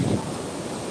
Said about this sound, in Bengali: এখানে অনেক বাতাস